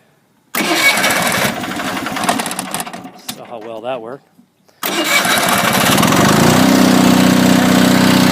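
An Onan diesel generator engine cranks and catches, runs loudly, cuts out briefly, then restarts and settles into a steady, loud run while someone speaks over it.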